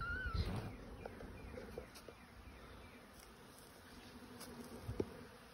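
A soft, continuous drone of bees hums in the background, with a few faint clicks and bumps nearby and no talking.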